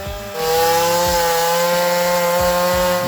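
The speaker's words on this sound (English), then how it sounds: "So my brother's on the chainsaw" A chainsaw cutting a cedar tree runs at a steady high whine throughout, its engine drone holding constant and loud after a brief revving start, with faint creaks of wood underneath.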